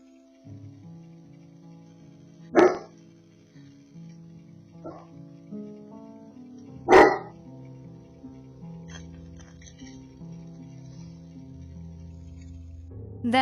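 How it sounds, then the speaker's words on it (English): A dog inside a house gives two sharp, loud barks several seconds apart, with a fainter yip between them, over a quiet low hum and soft background noise. "just moments after her dog starts barking"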